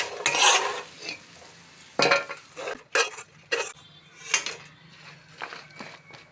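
A spoon scrapes and stirs cooked coconut chutney ingredients in a pan, moving them onto a plate with several sharp metallic scrapes and taps at uneven intervals, close up in a quiet kitchen.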